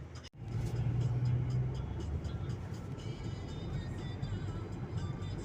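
Car pulling out of town on a winter road, a steady close interior engine and road rumble that swells briefly after a sharp knock, then holds an even droning hum.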